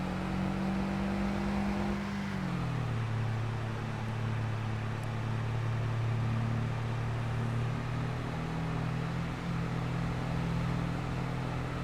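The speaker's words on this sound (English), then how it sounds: "This poor little engine in this truck. It's just screaming." A strained truck engine in Farming Simulator 22 drones loud and continuous, its steady hum dropping to a lower pitch after a couple of seconds as it shifts, then holding a constant whine under road noise.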